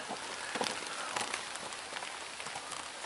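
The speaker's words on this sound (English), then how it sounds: "Rain and wind are picking up." Rain and wind beat on a tarp during cold-weather stealth camping, a dense, steady patter of drops with scattered sharper hits, moderately soft and continuous, with no voices.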